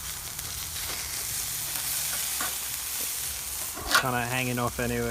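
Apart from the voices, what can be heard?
steaks sizzling on a barbecue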